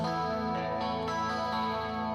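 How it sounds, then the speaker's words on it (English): An electric guitar played through a Fender Deluxe Reverb amp simulation rings out as sustained, full-bodied chords with a chorus-like shimmer, steady and close with no speech. "right now, I have it set on the Fender Deluxe Reverb"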